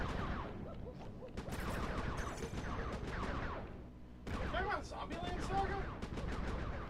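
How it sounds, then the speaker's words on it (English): Fireworks go off in the video game Sly 3, a dense run of popping crackles and bursts that pauses briefly and then resumes, with game voices talking over the noise. "Be careful cover with those fireworks, Panda King."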